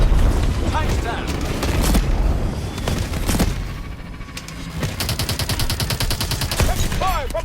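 Rapid bursts of automatic gunfire in the video game Call of Duty: Advanced Warfare, loud and dense amid booming battle noise, with quick repeated shots clustering toward the end.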